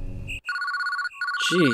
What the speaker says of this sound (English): Glad that phone woke me up.